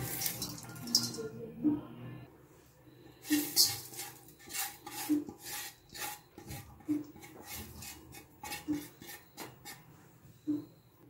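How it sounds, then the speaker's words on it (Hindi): Repeated clinking and scraping of a utensil against a bowl in an irregular rhythm while mixing garlic powder and spices into raw chicken, with soft wet mixing sounds in between, close and moderately loud. "इन सब चीज़ों को हम अब मिक्स करेंगे चिकन के अंदर"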